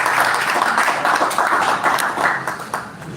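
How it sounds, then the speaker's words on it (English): Audience applause welcoming Professor Justin Green at an inauguration ceremony, a steady dense wash of clapping held at an even level throughout. "Let's give him a big round of applause while he comes"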